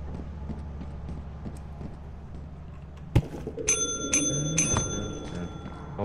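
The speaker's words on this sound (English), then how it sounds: "Oh, they're ringing that bell quite a bit." Bell ringing inside the video game Lethal Company, several sharp metallic rings in quick succession after a single clack, over a low background rumble.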